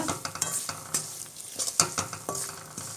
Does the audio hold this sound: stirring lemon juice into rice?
yes